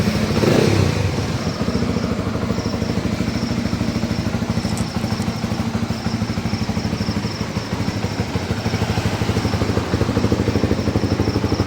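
A Honda Flash 150X fuel-injected motorcycle engine, with about 1,500 km on the odometer, idles steadily with an even, chugging rumble and light mechanical clatter, close and continuous with no voices.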